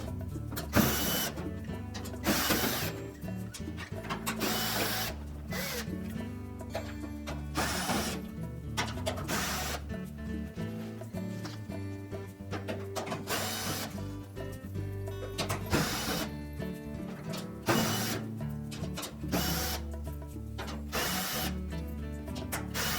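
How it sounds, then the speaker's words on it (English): Repeated whirring bursts of a powered driver backing screws out of the rear panel of a Frigidaire washing machine, with ratcheting clicks between runs, close and regular across the whole stretch, no voices. "we're going to remove this back panel. Just remove all of the screws"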